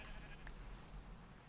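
Sheep bleating in the video game Minecraft, a brief faint bleat over a steady low background hum, with no talk.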